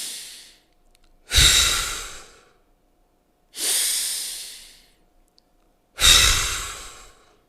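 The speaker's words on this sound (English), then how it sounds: "The breath looks something like this." Three full, deep breaths drawn in and let out through the mouth, each a long airy hiss with a soft sighing release, separated by quiet pauses, close to the microphone.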